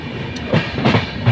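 Karnataka Express running between Mathura and Gwalior, with a steady rumble of wheels on the rails and a few heavier clattering thumps, close and fairly loud for a brief moment.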